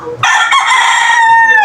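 A gray bull stag rooster gives one loud, close crow that starts abruptly and holds strong to the end.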